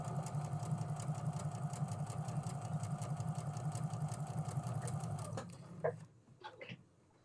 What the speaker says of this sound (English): I'm going to just keep sewing the second one through.